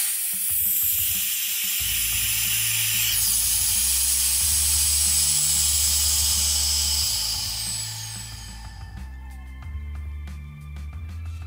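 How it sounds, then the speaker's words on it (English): Steady hiss of air rushing back into a vacuum chamber over a low, rhythmic mechanical rumble, the hiss gradually dying away as the machine keeps chugging. "Okay, letting air back in the vacuum."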